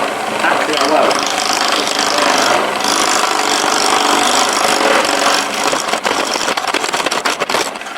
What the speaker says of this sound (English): miles too slow for wood turning, and I just use the tip of this chisel around it